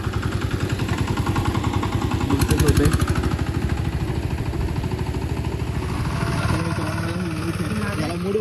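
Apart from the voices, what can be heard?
tractor engine running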